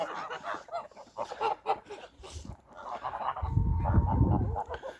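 Geese on a farm honk in a series of nasal calls, fairly close, with a rougher, lower noise building toward the end.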